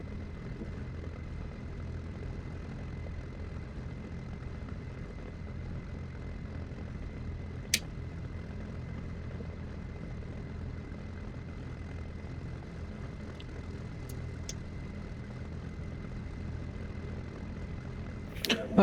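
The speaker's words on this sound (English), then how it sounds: "we'll crank the RPMs up to about 1600. And we'll check the magnetos." Aircraft engine run-up with RPMs raised to about 1600 for a magneto check, a steady droning engine roar held at constant pitch, with a couple of brief sharp clicks.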